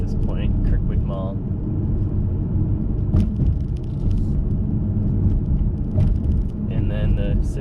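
A car rolls through the streets of Bismarck, North Dakota, with a steady, dense road and engine rumble inside the cabin and someone talking over it throughout.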